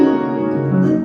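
A keyboard plays only its black notes, giving a loud, sustained chord-like cluster of tones that rings steadily without pause.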